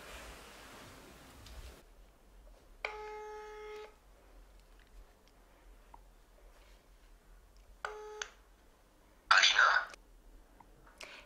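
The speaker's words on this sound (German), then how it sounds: "Ich rufe von Alinas Handy aus an" A mobile phone dials out and rings, with a few short electronic tone bursts and a louder final beep spaced across quiet background hiss, heard between stretches of hushed voices.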